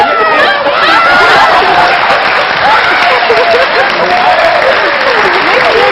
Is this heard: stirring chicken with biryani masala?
no